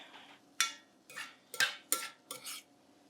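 Clanks and scrapes of a utensil against a wide pan as chopped onion is stirred into browned mince, five or six sharp knocks at an irregular pace, close and fairly quiet.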